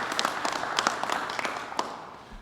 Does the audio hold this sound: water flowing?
no